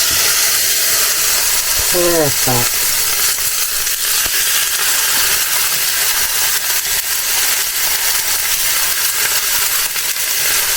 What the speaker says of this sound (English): we're about ready for the hot pan sizzle test